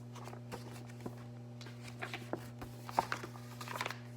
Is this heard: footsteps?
yes